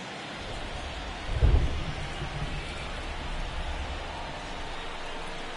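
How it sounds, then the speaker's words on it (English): Steady rain hisses throughout a baseball game at Nationals Park, with a single low thunder rumble rising near the start before the downpour continues evenly; no talk is heard. "It feels like we might be headed towards a rain delay if the weather doesn't ease up, Chris."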